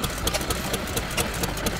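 An old stationary gasoline engine runs steadily at an outdoor show, its firing a continuous close, loud chugging with regular rhythmic pulses.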